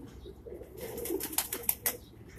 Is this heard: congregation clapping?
no